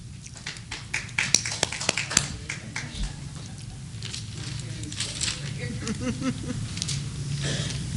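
An audience at a board meeting claps for a speaker, with a burst of scattered, close hand claps at the start that thins into lighter patters and room noise. A voice speaks partway through.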